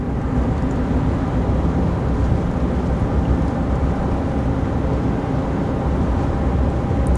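A 2023 RAM 2500 pickup, Power Wagon Hemi or Rebel Cummins diesel, cruising near 60 to 65 mph at about 2,000 RPM, a steady, loud low rumble of engine and road noise inside the cab with no talking.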